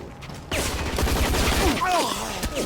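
Rapid bursts of gunfire in the video game Hazard Ops crackle with metallic reload sounds, and a voice speaks briefly amid the shooting.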